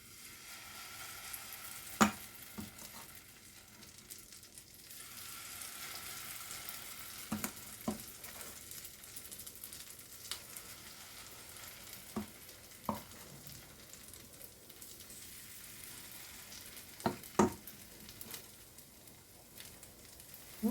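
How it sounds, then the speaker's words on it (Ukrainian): Zucchini pancakes fry steadily in a pan, a continuous close sizzle with occasional sharp pops and crackles spread through the clip, no voices over it. "І смажаться."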